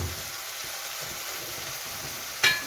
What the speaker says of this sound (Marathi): तर ते कांदे आता परतवून घेते आणि छान लालसर होईपर्यंत आपण हे कांदे भाजून घेणार आहोत